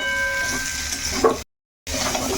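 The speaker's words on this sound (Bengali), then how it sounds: "কুমড়োটা এর সঙ্গে ভালো করে কষাবো" Raw pumpkin pieces and potatoes are stir-fried in a pan with a steady sizzle and scraping stirs, then the sound briefly cuts out before the sizzling resumes.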